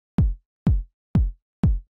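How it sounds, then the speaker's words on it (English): Four evenly spaced, punchy 909-style kick drum hits for deep house, each with a short, clipped decay, sounding clean and isolated. "It's just like a nice punchy, I think it's like a 909 style kick."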